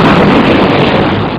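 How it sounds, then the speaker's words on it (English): A sonic boom from an F-18 jet breaking the sound barrier hits as one loud, broad rumbling blast that holds for over a second with heavy wind-like roar, no voices. "Aircraft actually usually produce two booms."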